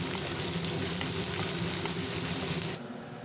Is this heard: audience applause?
no